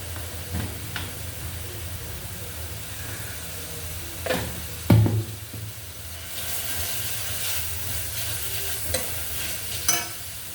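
Ginger paste frying with turmeric in a pan, steady soft sizzle and hiss throughout, with a few clinks and stirring scrapes near the middle and end; no one speaks.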